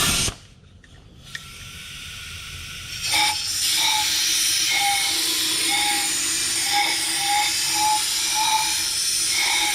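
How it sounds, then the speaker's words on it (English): Brake cleaner sprayed and compressed air blown during an Allison 4000 series transmission filter and oil service: a short burst, then a steady close hiss that holds to the end with no talking. "So I'm gonna spray some of this brake cleaner, and then with a little bit of air"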